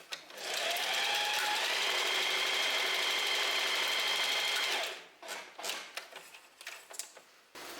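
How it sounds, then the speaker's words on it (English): A sewing machine runs a straight stitch through stretchy jersey fabric in one steady whirring burst of about four seconds, then stops, leaving a few light clicks and handling taps. "I'm just gonna set it back to my normal straight stitch to show you the difference."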